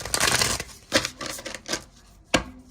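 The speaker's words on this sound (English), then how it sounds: "Watch this deck shuffle so nicely." A tarot card deck is shuffled by hand, giving bursts of crisp riffling and slapping card sounds: a long initial riffle followed by several sharp, close taps and one final loud snap.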